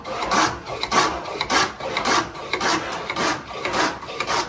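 Hand router plane cutting a groove along a wood board with its fence riding the board's face, a close, rhythmic rasping scrape repeating in quick strokes roughly twice a second, with no voices.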